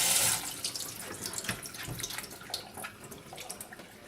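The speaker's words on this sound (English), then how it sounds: "then rinse it with some water, just a quick rinse, just like that" Tap water runs over vegetables in a colander for kimchi, a close splashing rinse with a burst at the start, then uneven spattering that gradually thins.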